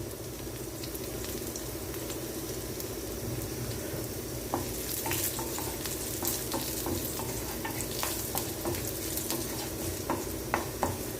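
Garlic with green and dried red chillies sautéing in a pan, a dense continuous frying hiss with scattered spatula clicks and scrapes growing busier toward the end, close, no talking.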